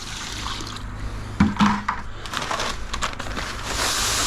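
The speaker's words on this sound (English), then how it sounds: "Give it a bit more water." Water is poured into a sand and cement screed mix for a bathroom floor, giving a wet sloshing and crunching sound over steady mixing noise, with a louder splash early on.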